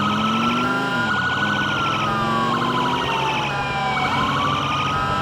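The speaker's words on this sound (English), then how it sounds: "Siren." A loud police siren wails and yelps continuously in GTA IV with the LCPDFR mod, coming from a Florida Highway Patrol 2015 Dodge Charger, with its pitch sweeping up and down over engine and road noise.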